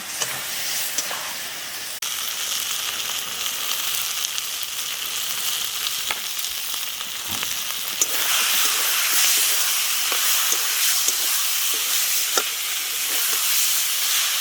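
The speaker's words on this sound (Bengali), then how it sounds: "ভেজে রাখা আলুগুলো দিয়ে ভালো করে কষিয়ে নেব" Fried potatoes being stir-fried into an egg curry in a pan, giving a steady, fairly loud broadband sizzle that continues for the whole stretch and grows slightly stronger partway through, with occasional faint scraping of stirring.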